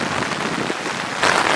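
Steady rain patters down at Manchi waterfall in a dense, even wash of noise, swelling slightly louder near the end.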